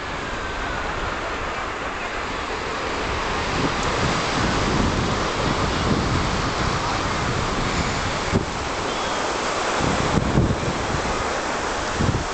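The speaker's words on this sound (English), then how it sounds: "Look at this lovely beach." Waves break on Playa Mondragó beach in Majorca, a broad continuous roar of surf with heavy wind buffeting the microphone and a few louder thumps, with no voices.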